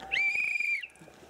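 A single shrill whistle blast, held steady for under a second and then cut off, close and fairly loud.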